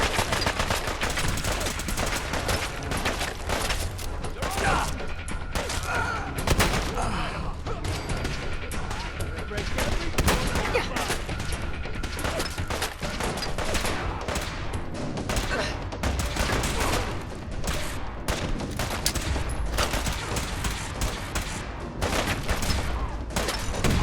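Dense, continuous gunfire from the video game Fallout 4: sustained bursts of automatic fire and crashing impacts fill the whole stretch, loud and close with little letup.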